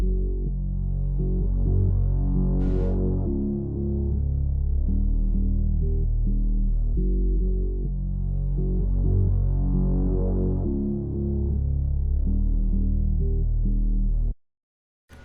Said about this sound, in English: I added these two basses, but I cut the lows out of one of them so they can sit well together.